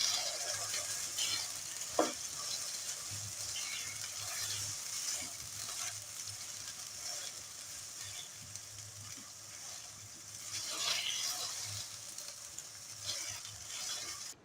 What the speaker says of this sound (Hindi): और ये देखिए बहुत अच्छी तरह से यहाँ पे मीडियम टू हाई फ्लेम पे कीमे की भुनाई हो रही है।